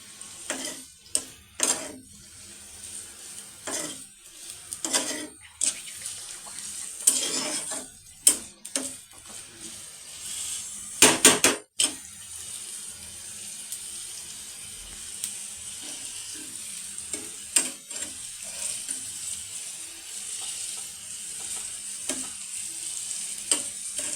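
Onions fry with chickpea dal and jackfruit for tikia in a pan, a steady sizzle broken by repeated scraping and clinking strokes of a spatula stirring, with no talking.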